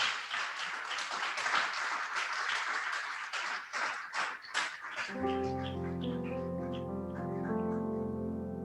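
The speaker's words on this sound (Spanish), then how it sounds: "Démosle un aplauso al Cordero de Dios." A church congregation applauds with fairly faint, uneven clapping for about five seconds, and then sustained musical tones take over.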